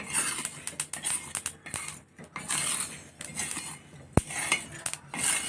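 Light dry-roasting in a pan with steady stirring: repeated metallic scrapes and clinks of a spoon against the pan, one sharp knock near the end, close and quiet with no talking.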